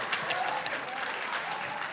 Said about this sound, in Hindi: इस बात पर एक बार फिर से जोरदार तालियां फॉर शकील सिद्दीकी